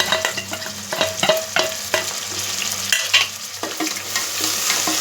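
Onions sauté with mint and coriander in a pan for fish biryani, a steady frying sizzle broken by repeated scraping stirs and spatula knocks.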